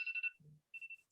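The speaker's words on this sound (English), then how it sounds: "hold on, that's my alarm." An alarm rings in two bursts of a steady high electronic tone, separated by a short low hum, with the second burst starting again near the end; there is no talk over it.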